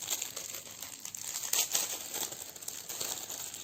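Crinkly plastic packaging from an AliExpress order being unwrapped, with bursts of close, sharp crackling and rustling at moderate volume, and no voices.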